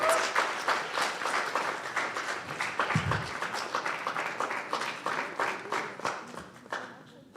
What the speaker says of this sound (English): Can you give a round of applause to our panelists?